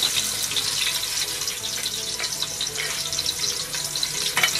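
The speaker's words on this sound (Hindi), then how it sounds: "अब हम प्याज फ्राई करेंगे इसमें।" Sliced onions frying in ghee, a steady close hiss and crackle with a watery, bubbling texture and a few brief louder pops, no talking.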